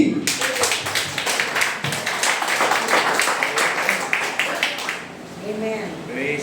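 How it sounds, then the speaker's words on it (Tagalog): A church congregation claps together in praise of the Lord, a dense run of many hands beating steadily for about five seconds before thinning out, with voices rising beneath at the close. "palakpakan po natin ang Panginoon"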